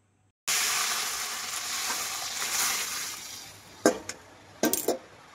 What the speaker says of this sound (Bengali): আদার কাঁচা গন্ধ যাওয়া পর্যন্ত একটু নেড়ে চেড়ে নেব